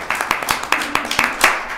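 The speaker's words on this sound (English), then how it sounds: "get ready for another round of applause." Scattered hand claps ring out at a town council meeting, a short, sparse burst of individual claps from a small group in the room.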